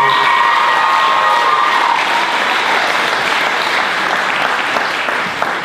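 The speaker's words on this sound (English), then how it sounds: "So everybody please, a round of applause for my sister" Loud, sustained applause from wedding guests, with some cheering mixed in, continuing steadily throughout.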